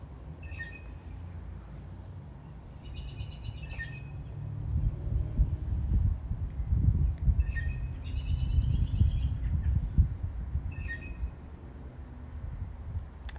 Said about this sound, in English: all these birds that I hear today